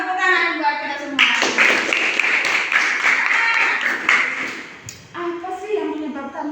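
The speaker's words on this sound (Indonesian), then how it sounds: "Tepuk tangan buat kita semua" A classroom of students gives a burst of lively clapping, many hands at once, framed by a teacher's voice speaking before and after the applause.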